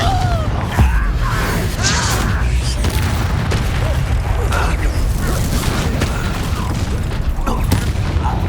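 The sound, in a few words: Confringo blasting spell in Hogwarts Legacy video game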